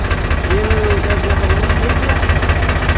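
Tractor engine idling nearby with a steady low throbbing knock, loud and continuous, under a faint voice.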